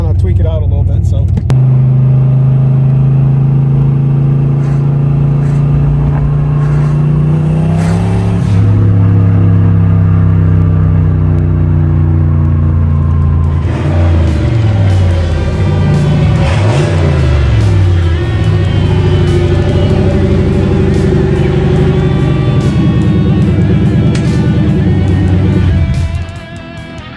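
A junkyard GT40 turbo engine revs loud and close on a test drive, roaring steadily and then climbing and falling through several throttle pulls, while voices talk over it.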